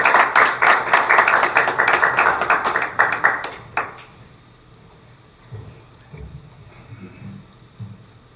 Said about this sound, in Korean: 자, 우리 교수님 나오실 때 박수로 환영합시다.